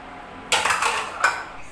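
A metal lid set down on a cooking pot of Filipino pork pochero, a sharp clatter followed by a second lighter clink about a second later, close and clear with no talk.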